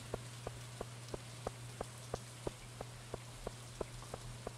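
Rain falls in the video game Stardew Valley, a soft steady patter with a regular ticking pulse about every third of a second over a low hum.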